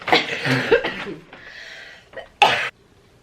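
A few sharp coughs from a pregnant woman with Covid, with a throat-clearing burst, sound close by, followed by a short pause and one final forceful cough.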